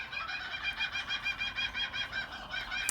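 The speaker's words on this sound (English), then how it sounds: "That sounds like the kookaburra is about to start laughing." A kookaburra calling from a distance, a rapid rhythmic chuckling cackle that rises into the start of its laughing call, steady and moderately faint throughout.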